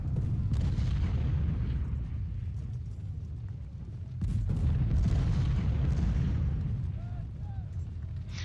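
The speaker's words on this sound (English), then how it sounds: "I know our artillery's really got to be kicking it right now" Artillery fire in the Civil War strategy game Ultimate General: Civil War during a river crossing battle, a dense, loud, continuous rumble of booms and blasts with a surge of heavier fire midway, running under a talking voice.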